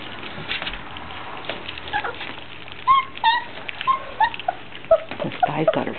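Small puppies about three and a half weeks old eat puppy food nearby, with soft wet chewing and lapping mixed with brief high whimpers and squeaks from the litter.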